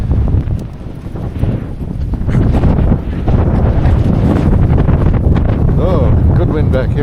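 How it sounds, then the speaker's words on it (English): Strong wind gusts during a snowstorm roar across the microphone as a loud, continuous low buffeting that swells and ebbs without a break. Faint voices and movement sit under the rumble. "There's the wind."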